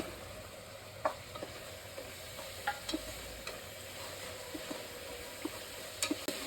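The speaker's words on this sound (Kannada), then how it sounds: "ಮಧ್ಯದಲ್ಲಿ ಒಂದ್ ಎರಡ್ ಮೂರು ಸಲ ತಿರುಗಿಸ್ಕೊಳ್ಳೋಣ ನಂತರ ಗರಂ ಮಸಾಲೆ ಸೇರಿಸ್ಕೊಳ್ತಾ ಇದ್ದೀನಿ" Spices fry with a soft, steady sizzle in a pan for a biryani while a spoon stirs, scraping and clinking now and then at close range.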